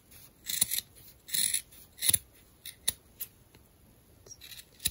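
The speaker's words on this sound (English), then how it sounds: "Just cut like this, like a triangle." Scissors cut fabric for a face mask, several crisp close snips at an uneven pace, each a sharp brief shear, with quiet gaps between them.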